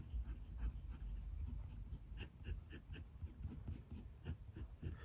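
A Moonman T1 fountain pen with a wet nib and Monteverde Copper Noir ink scratches across Clairefontaine 90 gsm paper, giving soft, close, rhythmic strokes with slight feedback and no talking.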